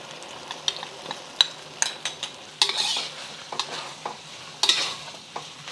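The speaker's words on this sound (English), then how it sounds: "push the veggies to the side. Try to get the slurry into the middle." Vegetables for cashew chicken are pushed around a hot pan as cornstarch slurry is stirred in. Repeated spatula scrapes and clinks sound close over a soft, steady sizzle.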